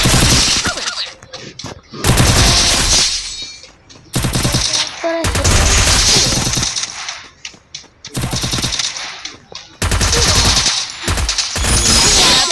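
Free Fire video game gunfire during a shooting challenge: loud bursts of rapid automatic fire in several long volleys, broken by short pauses and ringing hits.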